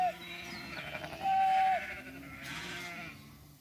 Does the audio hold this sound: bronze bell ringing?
no